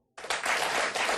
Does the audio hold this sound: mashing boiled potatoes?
no